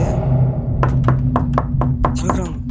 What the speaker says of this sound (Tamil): தட்டுறா தட்டுறா